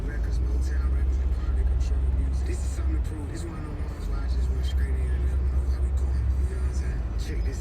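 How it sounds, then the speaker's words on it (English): Steady, heavy road traffic in slow congestion approaching the Delaware Bridge with two lanes closed, heard from inside a vehicle as a constant low engine and tire rumble, loud and continuous throughout. "We just hit traffic. We're about to cross the Delaware Bridge."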